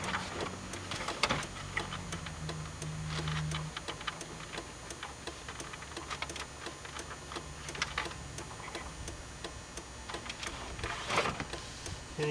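Hazard flasher in a Chevrolet S10 ticks in a steady, quiet rhythm inside the cab, with faint rustling and occasional clicks of work around it.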